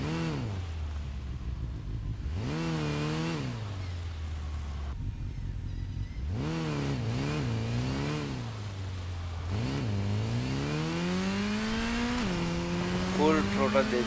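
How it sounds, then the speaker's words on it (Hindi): A motorcycle in the Gotham Knights video game runs at full throttle, its engine whining up through the revs again and again with brief drops between surges, loud and close over a steady background. "फुल थ्रोटल दे दिया है अब तो मैंने,"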